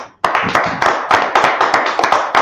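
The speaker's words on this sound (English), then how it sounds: "Let's clap it up." A church congregation at a Bible brotherhood class claps along, sharp individual claps landing in a quick, fairly regular rhythm after a brief pause, close and loud with no talk over them.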